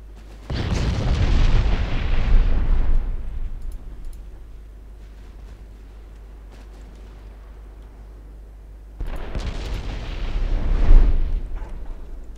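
Heavy naval gunfire from armor-piercing shells in the warship game Ultimate Admiral Dreadnoughts: two loud, deep booming salvos several seconds apart, each with a long rumbling tail and a quieter lull between them.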